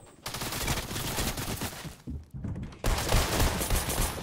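Rapid bursts of automatic gunfire in Fortnite, loud and close, with a brief pause before another sustained volley.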